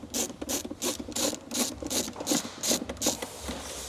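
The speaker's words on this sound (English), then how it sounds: "you have a T27 bolt that you're gonna wanna remove" Close, quiet ratchet clicking in a quick, steady rhythm of about ten strokes as a T27 bolt behind the side mirror of a Tesla is backed out, with no voices.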